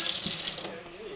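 Tap water runs briefly to wet something before a sneeze prank, a short hissing splash that fades within about a second, close to the microphone.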